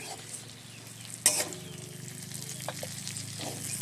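Pointed gourd slices frying in hot oil sizzle steadily and fairly quietly, with one sharp metallic clink of a utensil and light stirring scrapes.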